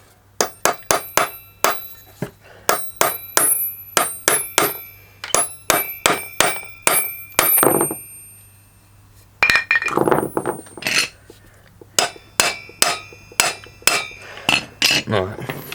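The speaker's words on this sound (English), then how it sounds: "I'm going to try and hammer a 13mm socket on there." Repeated sharp metal-on-metal hammer blows drive a 13mm socket onto a part of an SGS Engineering 26cc strimmer, loud and close in quick rhythmic bursts with a couple of brief pauses.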